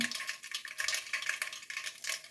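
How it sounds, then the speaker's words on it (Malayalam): Mustard seeds in hot oil, cooked for an okra curry, pop and crackle in quick, irregular bursts over a close, continuous sizzle, with no voices. "കടുക് പൊട്ടി തുടങ്ങി"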